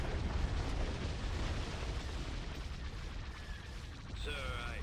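Turbolaser fire in Star Wars Empire at War with the Thrawn's Revenge mod: a faint, steady rumble of booming blasts and explosions, with a short zapping sweep near the end.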